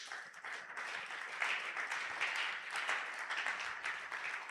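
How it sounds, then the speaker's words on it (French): A church congregation applauding during a Sunday praise and thanksgiving service, a sustained wash of many hands clapping that swells and holds steady, filling the room. "Acclamons très fort la parole de Dieu."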